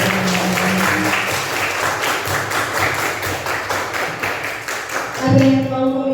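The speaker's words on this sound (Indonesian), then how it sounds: "Tepuk tangan buat kalian semua." Applause from a classroom audience of students and teachers, a sustained patter of many hands with a few voices breaking through near the end.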